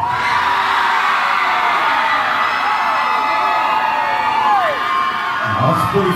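A packed bar crowd at a traditional dance competition cheers, whoops and yells loudly and without a break, a dense wall of shouting voices throughout.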